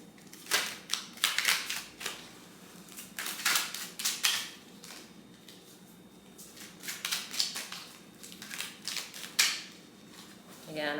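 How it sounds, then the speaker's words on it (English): Tarot cards are shuffled in repeated bursts of crisp riffling and flicking, with short pauses between, close up, and a voice speaking softly now and then. "So let's shuffle again."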